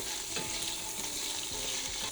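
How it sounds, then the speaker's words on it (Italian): Scampi heads fry in hot olive oil, a steady close crackling sizzle with stirring scrapes in the pan, no voices. "Una volta ben caldo l'olio andiamo ad aggiungere le nostre teste degli scampi. Ora le andiamo a rosolare per qualche minuto."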